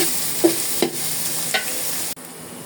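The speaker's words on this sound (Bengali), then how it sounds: "পেঁয়াজগুলো লাল লাল করে ভাজবো।" Chopped onions fry in a pan for a chicken roast, giving a steady sizzle while a spatula scrapes and stirs three times in short strokes. The frying continues alone without talk and drops a little in level near the end.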